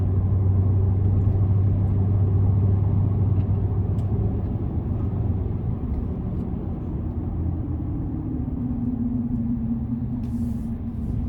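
A 2025 Chevrolet Silverado 1500 ZR2 with its stock exhaust accelerates gently in sport mode, not floored. It makes a steady low engine drone and cabin rumble, with a tone rising toward the end and no talking.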